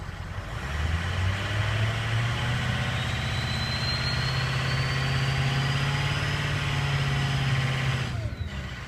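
A 2003 Ford 6.0 Powerstroke diesel engine runs at a steady, moderately loud drone for about eight seconds, the pitch easing slightly upward as a little throttle is given, then it drops away.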